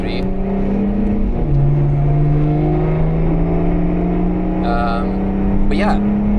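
A BMW 535d Touring diesel estate on the Nürburgring circuit, heard from inside as a steady, droning engine and road roar with gradual pitch shifts as it eases off to let other cars pass, with faint, brief passing sounds and a voice speaking.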